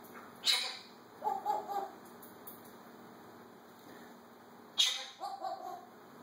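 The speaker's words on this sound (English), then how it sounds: "No, that's a doggy." A dog, most likely a small one, gives two short bursts of barks or yips, each a sharp yelp followed by a few quick softer yaps, heard moderately close over faint background.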